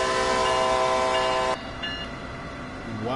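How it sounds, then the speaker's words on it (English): A Amtrak train stops at a station in Train Sim World 2020, its loud horn blaring with a steady tone before cutting off sharply, leaving low rumbling rail noise and a rising mechanical tone near the end. "why is there an Amtrak train stopping at this station?"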